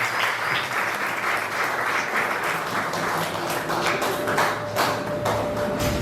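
Warm audience applause at a talk on the history and artistic traditions of Yanga, a thick continuous wash of many hands clapping, loud and steady throughout with no voices standing out.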